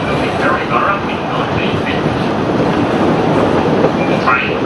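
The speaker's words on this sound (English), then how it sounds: "The locomotive today is a member of the C17 Class, number 967, known as the Spirit of the Mary Valley" Onboard a train hauled by C17 class steam locomotive 967, built in Maryborough, carriages rumble and roar steadily along the rails in a loud, dense, continuous wash.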